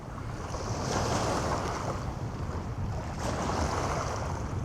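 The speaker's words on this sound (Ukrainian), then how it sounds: "Зараз знов щось вітер такий підіймається." Wind gusts over open water during a fishing trip for asp, a steady roaring rush with waves lapping close by, loud and unbroken throughout.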